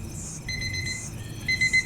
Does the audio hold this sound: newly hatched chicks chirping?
no